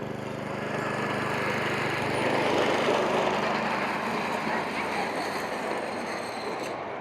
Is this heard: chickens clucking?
no